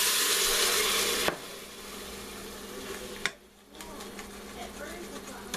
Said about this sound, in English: I'm going to take a little bit of the broth that it cooked in, add it in here, scrape some of that up